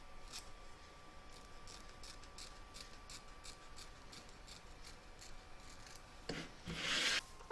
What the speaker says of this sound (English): You're now going to trim the excess organza away.